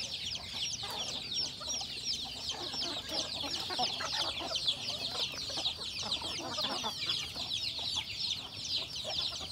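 A flock of chickens cluck and chatter continuously in an outdoor range, a busy, steady chorus of overlapping calls at close to moderate distance.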